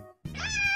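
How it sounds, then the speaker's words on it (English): A single cat meows close by, a brief rising tonal call that starts abruptly after a short silence. "A cat makes a meow sound."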